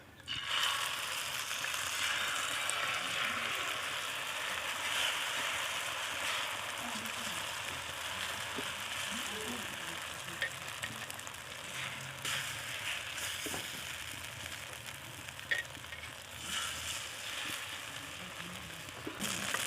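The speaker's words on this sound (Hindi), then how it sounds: "तवे के ऊपर थोड़ा सा और घी डालेंगे। तो अब तवे पे अंडा डालेंगे।" An egg frying on a ghee-greased tava for a village-style egg paratha gives off a steady, moderately quiet crackling sizzle that carries on throughout, with small pops here and there.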